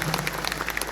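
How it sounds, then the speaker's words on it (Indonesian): A short burst of audience applause for OG, a steady patter of many hands clapping at once. "Ya tepuk tangan dulu buat OG"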